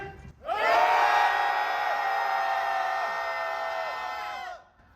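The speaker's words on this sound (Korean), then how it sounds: "전방을 향해 함성 5초간 발사하면서 기자회견 모두 마무리할 겁니다" A crowd at an outdoor press conference lets out a sustained collective shout for about four seconds, loud and steady before cutting off together, with a brief voice just before it begins.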